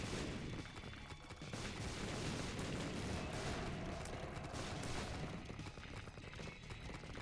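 Explosions in The Binding of Isaac: Repentance form a faint, dense barrage of rapid crackling blasts and thuds, continuous and overlapping without a break.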